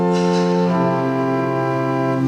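Viola string stops on a pipe organ in the Basilica Mariatrost, sounding a loud sustained chord of dense, buzzy, reedy tones that shift pitch partway through and then hold steady.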